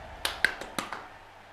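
A lone man clapping his hands a handful of times as mock applause, five sharp close claps spaced irregularly over about a second, then quiet.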